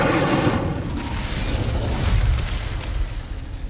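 Incendio fire spell cast in Hogwarts Legacy, a loud roaring whoosh of flame that bursts at the start and keeps crackling and rumbling steadily before easing slightly, with no voices.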